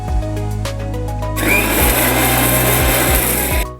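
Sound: mixer grinder grinding grated coconut with water

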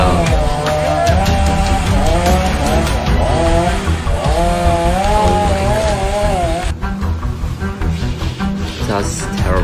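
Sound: chainsaw running up in a tree

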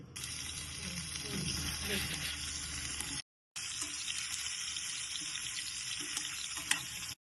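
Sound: small boiled potatoes frying in oil

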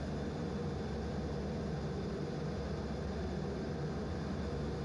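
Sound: F/A-18 jet taxiing forward

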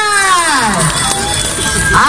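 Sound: crowd on left side clapping and cheering

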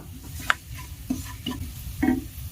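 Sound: frying spices with green chili and turmeric in pan

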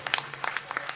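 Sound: audience applause for a folk orchestra musician

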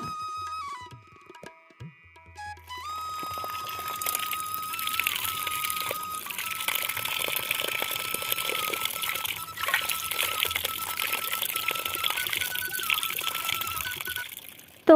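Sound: tap water filling a bucket

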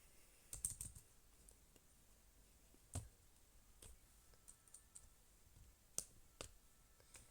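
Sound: computer keyboard clicking

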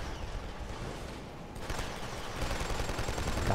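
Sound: M82 rifle gunfire in the video game Killzone 2

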